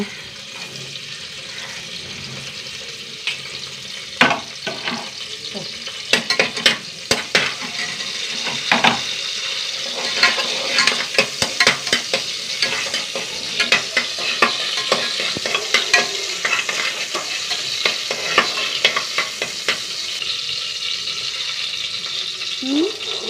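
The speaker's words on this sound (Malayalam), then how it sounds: "ഇതിലേക്ക് ഒരു ചെറിയ കഷ്ണം ഇഞ്ചി മൂന്നാലി വെളുത്തുള്ളി രണ്ട് പച്ചമുളക് കൂടി ഇട്ടേട്ടാ" Ginger, garlic and green chillies fry in hot oil, giving a steady close sizzle broken by frequent sharp stirring scrapes and clicks of a spoon against the pan, with no talk.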